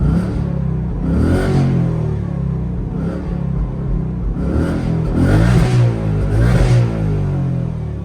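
A 2025 Ford Mustang GT with its exhaust set to quiet mode revs several times, each muted rise and fall of engine rumble separated by idle, with no voices.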